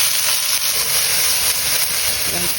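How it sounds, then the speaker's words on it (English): Leeks, green onions and onions hit hot oil in a wok, giving a loud, steady sizzle and hiss that holds without a break for the full few seconds. "Add your leeks, green onions, and onions."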